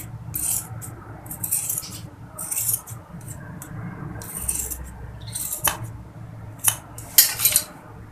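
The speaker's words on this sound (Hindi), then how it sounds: "ये जो हमने एक्स्ट्रा कपड़ा लिया था उसे भी कटिंग कर देते हैं" Scissors cut extra fabric for a homemade surgical face mask, giving repeated close snipping bursts in irregular clusters, with light metallic clicks and a faint low background hum.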